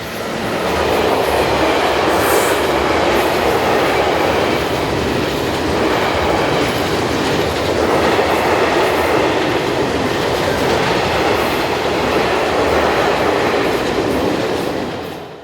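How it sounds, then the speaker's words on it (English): A Rhine Cargo freight train of loaded lime hoppers rolls past on a European main line, a loud sustained roar of wheels with rhythmic clickety-clack and faint flange squeal, fading slightly at the end, with no talking. "Rhine Cargo's 285114 heads south with loaded lime hoppers from Rodenhals to Gursdorf."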